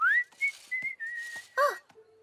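A cartoon pony whistles a bright, wavering tune while working outdoors by a hedge, with short rising and falling phrases, clear and close, broken by brief pauses and a few soft background noises.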